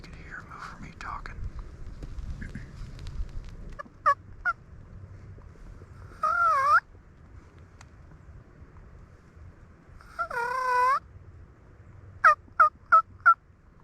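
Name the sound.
wild turkey gobbling in the distance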